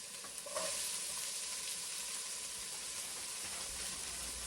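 Onions hit hot olive oil in a pan for tomato sauce, producing a steady, close sizzle that continues throughout with no talking.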